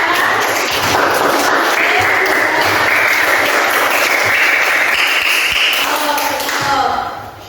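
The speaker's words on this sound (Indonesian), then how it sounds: "Tepuk tangan untuk kelompok 3." Classroom applause for a student group fills the space, steady dense clapping from many hands lasting about seven seconds before fading out at the end.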